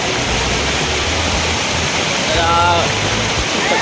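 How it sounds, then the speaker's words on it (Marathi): A Konkan waterfall at Ubhadewadi roars in a dense, continuous, loud rush of falling water, close by, with a voice briefly heard over it. "अजून एक वरती हा म्हणजे महत्त्वाचा धबधबा होत आहे"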